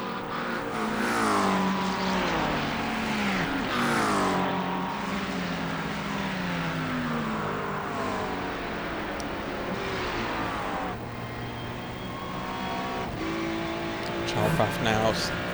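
Race cars battle wheel to wheel at Sebring in a racing video game, engines droning and revving continuously with rising and falling pitch as they shift, tires occasionally squealing, under steady commentary.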